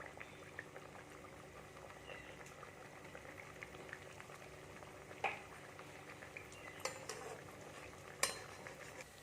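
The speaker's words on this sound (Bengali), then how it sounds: "এবার এগুলো একটু লাল করে আমি ভেজে নেবো" Semolina snacks deep-fry in oil with a soft, continuous bubbling sizzle and occasional brief pops and spatters. The sound is faint and steady, with no talk.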